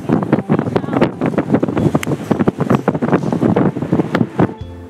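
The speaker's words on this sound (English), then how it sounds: "when we got there, it was ridiculously windy." Strong, gusty wind at a beach buffets the microphone in loud, uneven bursts, with a low rumbling roar underneath throughout.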